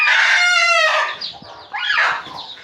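A hen with newly hatched chicks calls loudly up close, a long drawn-out cry followed by shorter clucking notes, with no talking.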